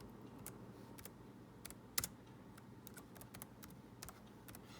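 A computer keyboard being typed on to enter a name, giving faint, scattered key clicks in short bursts over a steady low room hum.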